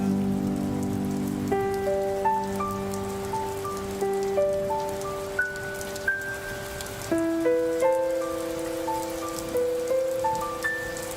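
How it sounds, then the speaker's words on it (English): Rain falls in a steady, soft patter and hiss. Gentle, slowly paced melodic notes ring over it, and the rain stays quiet and constant throughout. "I again dreamed of rain and the rains came."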